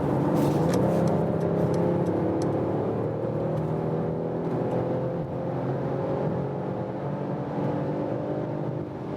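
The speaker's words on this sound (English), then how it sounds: "let's go back to Sport Plus mode to have the biggest boost, and once more acceleration from 100 kilometers up to" A 2021 Mercedes E-Class All-Terrain wagon accelerating hard from 100 km/h in Sport Plus mode, a steady loud cabin engine drone with rising tones and road and wind roar throughout.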